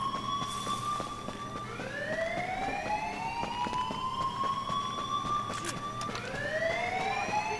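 Wailing alarm siren during a heist in the video game GTA Online on PC, rising and sustained tones repeating every few seconds under faint voices and game noise.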